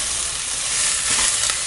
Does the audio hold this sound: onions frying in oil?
yes